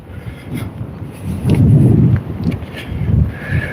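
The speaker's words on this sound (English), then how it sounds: "Really wet and windy where I am." Gusty wind buffets the microphone outdoors in rough weather, with low rumbling surges swelling and fading; rain is not clearly separable.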